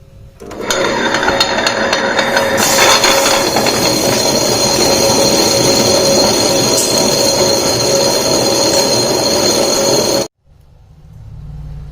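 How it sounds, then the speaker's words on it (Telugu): A mixer grinder grinds fenugreek seeds with salt, chili and spices while making pickle. It gives a loud, steady whirring roar for about ten seconds, then cuts off abruptly into near silence. "ముందు స్టార్ట్ చేస్తున్నా గ్రైండర్"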